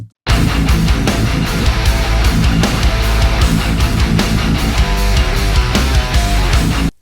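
A heavy metal band mix pounds along with a fat, punchy gunshot-style snare hitting hard on a steady beat over dense distorted guitars.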